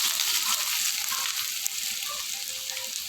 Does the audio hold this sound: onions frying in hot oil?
yes